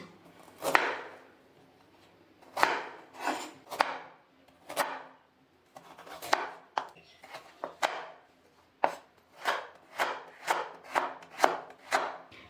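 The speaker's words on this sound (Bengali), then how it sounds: "এবার আমি প্রথমে আলুটাকে কেটে নিচ্ছি ছোট ছোট করে ডুমো ডুমো করে কাটবো এবার গাজরটাকেও কেটে নিচ্ছি" Knife chopping potato and carrot into small cubes on a board, a steady series of crisp, close cuts in bursts with short pauses, no talking.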